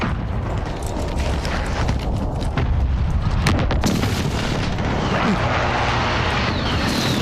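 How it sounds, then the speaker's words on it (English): Precision airstrike explosions in Call of Duty Modern Warfare hardcore multiplayer, heard as loud, sustained rumbling booms with roaring jet noise; the blasts fill the whole stretch at close range, with a voice faintly underneath. "Friendly precision airstrike on the way."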